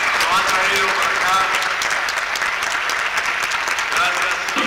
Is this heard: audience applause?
yes